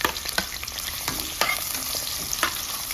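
Onions fry with cinnamon, cloves and cardamom in oil for tomato biryani. A dense close sizzle is broken by repeated sharp crackles and spatula knocks.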